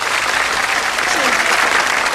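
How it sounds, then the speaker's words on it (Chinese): An audience welcomes a performer at a concert with sustained, dense applause that stays loud and even from start to finish, with crowd noise mixed into the clapping. "我们再次用掌声来欢迎一下。"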